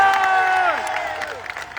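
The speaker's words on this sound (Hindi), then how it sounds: "चाहूंगा कि आप एक बार अभिनय सर के लिए जोरदार तालियां बजाएं।" An audience at an SSC protest in Delhi applauds loudly for a teacher, with dense clapping mixed with crowd cheers and raised voices that gradually thin out.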